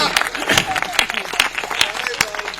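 An audience at a Hindi speaking event claps in sharp, uneven bursts while a speaker keeps talking over the applause.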